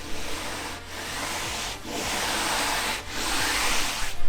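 Steady, coarse scratching of sandpaper rubbed by hand over rough wood, in several long strokes with brief pauses between them, close and fairly loud.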